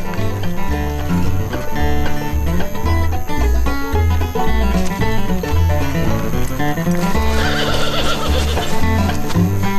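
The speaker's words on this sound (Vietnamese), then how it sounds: "Đàn ngựa đang quay trở về phía ngôi nhà." A herd of horses in Montana neighs and whinnies repeatedly, loud and close, with clip-clop hoofbeats underneath as they walk back toward a house; no talking.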